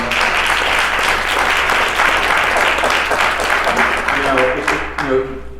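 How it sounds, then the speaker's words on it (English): Loud, sustained applause from a crowd fills the room, fading near the end as a voice begins speaking. "Please give her a round of applause."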